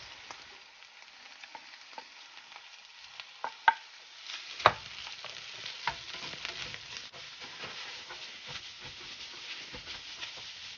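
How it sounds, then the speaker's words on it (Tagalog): Beef franks sizzle steadily in a hot frying pan for fried rice, a soft continuous crackle broken by a few louder stirring scrapes and clacks close by. "so I'm just heating the beef franks"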